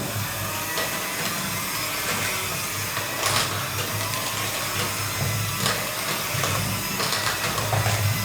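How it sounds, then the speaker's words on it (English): An electric mixer beats plum cake batter with orange marmalade and pineapple jam, a steady close motor whir with faint periodic knocks of the beaters against the bowl. "Again, beat the mixture."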